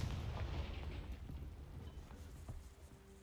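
A low, rumbling Confringo spell blast in Hogwarts Legacy, a dull booming burst that fades out over a few seconds with no talk over it.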